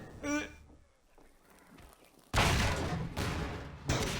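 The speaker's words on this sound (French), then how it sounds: "les explosions dans ce jeu" Explosions in the video game Half-Life 2, in the Ravenholm level: after quieter scattered game sounds, a loud sudden blast hits and rumbles on, followed by a second burst near the end.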